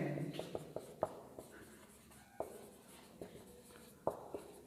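A pen writes on paper while a notice is being drafted, giving close, quiet scratchy strokes and sharp little taps at irregular intervals, with brief pauses between words.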